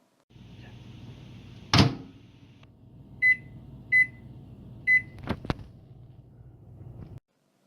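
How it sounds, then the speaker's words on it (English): A microwave oven heats a ramen noodle soup combo with a steady low hum, a sharp click near the start, three evenly spaced beeps, then two quick clacks like the door opening before the hum stops. "Heat the noodle soup combo in the microwave for about 3 minutes or longer if you need it"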